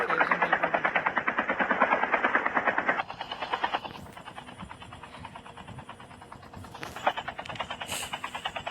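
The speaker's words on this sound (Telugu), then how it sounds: "ఓకే ముందర ఒక హెలికాప్టర్ అయితే మూవ్ అవుతుంది, మనం చూడొచ్చు ఇక్కడ మ్యాప్లో" A helicopter in a battle royale video game gives off a loud, rapid rotor chop that pulses steadily for about three seconds, then drops to a quieter, rougher drone with scattered sharp bursts.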